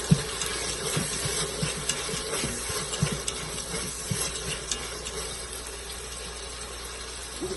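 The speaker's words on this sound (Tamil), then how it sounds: "ஏன்னா அதுவும் சேர்ந்து எண்ணெயில் நல்லா ரோஸ்ட் ஆகட்டும்." Tomatoes and mixed vegetables fry in hot oil for sambar in a home kitchen, giving a steady close hiss and sizzle with scattered soft pops and clinks of stirring and no talk.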